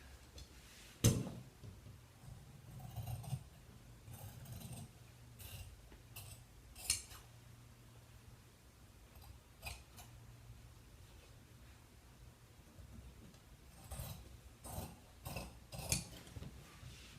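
Scissors snip along the bottom edge of a fabric valance lining, giving a series of soft, close clicks and cuts spaced irregularly with quiet gaps between them.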